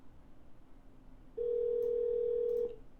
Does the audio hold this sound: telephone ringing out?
yes